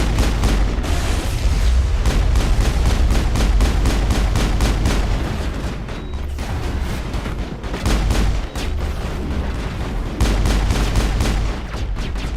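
Sniper rifle and other weapons firing in the video game Mass Effect during a firefight with Geth, a loud sustained stream of rapid repeated shots and booms across the whole stretch with no talk.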